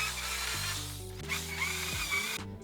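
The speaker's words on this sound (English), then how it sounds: "I used a wire brush attachment on my drill to remove any rust" An electric drill spins a wire brush attachment against a BMW E36 brake rotor to strip rust and grime, a steady whirring drone that shifts pitch several times as pressure changes.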